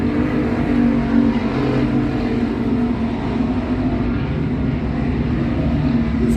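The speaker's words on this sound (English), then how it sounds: "Cruising around the speedway in car number 11" Race car number 11 circling a speedway during a race, a steady, loud, continuous engine roar with broad road noise and no talk over it.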